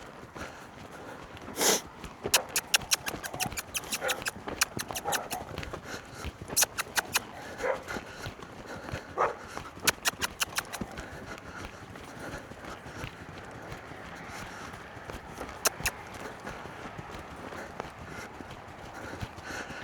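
A tired horse walking, its hooves making a steady series of clopping and thudding footfalls close by throughout, with faint outdoor noise and no talking.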